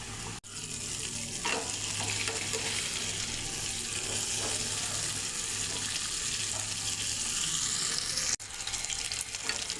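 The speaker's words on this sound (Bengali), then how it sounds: "এখন একটা একটা করে ভাজবো" Homemade KFC-style chicken pieces deep-fry one at a time in hot oil, a dense, continuous bubbling hiss that stays steady and close, broken only by a couple of brief dropouts, with no speech.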